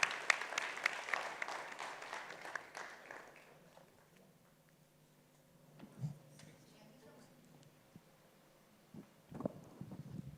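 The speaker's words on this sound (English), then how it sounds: "Please give a big round of applause for him and our winner." Audience applause at an Earth Care Awards ceremony, a dense burst of clapping that fades out over about four seconds, leaving a quiet room with a few faint thumps and brief noises.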